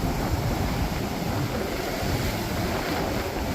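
Big swells breaking along a coastal fishing mark in winter, a steady broadband roar of surf mixed with gusting wind buffeting the microphone, continuous and fairly loud with no voices.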